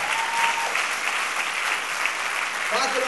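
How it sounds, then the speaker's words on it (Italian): An audience at a live concert-variety show breaks into loud, sustained applause, dense clapping throughout with a voice briefly heard near the end. "Fatemi un applausone,"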